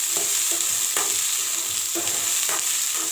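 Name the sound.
stirring and mixing soya chunks in a pan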